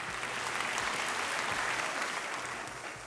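A crowd at the Benin Top 10 Awards ceremony claps in a sustained, even wash of applause that holds steady before tapering slightly at the end, with faint talk mixed in.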